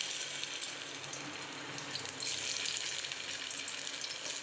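Slices of bitter gourd shallow fry in hot oil in a pan, giving a steady close sizzle and crackle that carries on without pause, with no talking.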